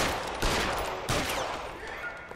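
Gunshots in the detective game L.A. Noire crack out in two loud sharp reports about half a second apart, followed by a decaying tail of battle noise.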